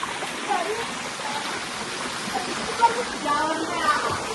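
Spring water flows down a hillside in a steady, close rushing stream with light splashing, and the wash of water continues for the whole stretch.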